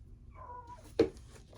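A small dog named Ollie, somewhere outdoors, lets out a faint, brief whine followed by a single sharp yelp, heard at a distance in an otherwise quiet setting.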